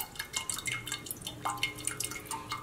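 Coconut water draining from a freshly holed coconut into a batch of horchata, a steady trickle with irregular close drips and splashes, fairly quiet and continuous.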